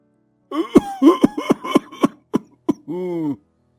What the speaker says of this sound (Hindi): आपकी तो खांसी रुकने का नाम ही नहीं ले रही है।